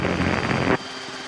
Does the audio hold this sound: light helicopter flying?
yes